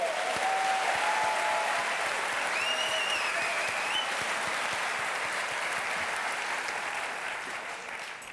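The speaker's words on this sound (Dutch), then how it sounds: "Dus ik hoop dat we allemaal een applaus kunnen geven aan Clarice." Audience at the Gouden Kalf film awards applauds Clarice, winner for best short documentary, with steady, full applause that slowly tapers off toward the end.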